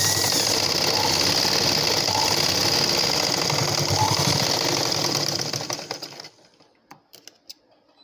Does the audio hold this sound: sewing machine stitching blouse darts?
yes